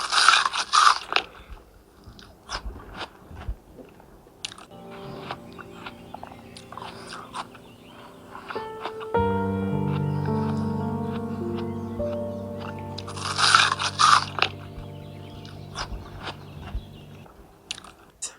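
Toasted white bread sandwich with watermelon bitten and chewed up close, with sharp crunchy bites near the start and again near the end, and a steady musical backing filling the middle.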